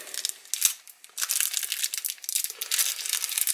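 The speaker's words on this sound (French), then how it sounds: "Ok, je vais déballer le reste ici." Plastic packaging crinkles and rustles in close bursts as small Armattan Gecko 3-inch drone parts are unwrapped, with brief pauses between handfuls of crackly foil-like crumpling.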